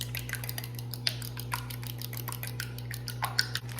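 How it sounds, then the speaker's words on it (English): An egg being beaten in a small bowl with a utensil, producing rapid repeated clinking and scraping taps against the bowl over a steady low hum, close and moderately quiet. "I'm gonna take my egg and just crack it in this little bowl here and scramble it up really well."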